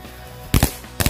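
Magic ball firecracker shots, a type of Indonesian mercon, bursting in two quick groups of sharp loud pops separated by a short quiet gap.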